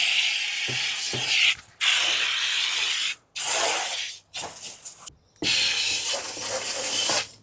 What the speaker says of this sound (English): I like to give this a spray down with a bit of fresh water as well, just gently.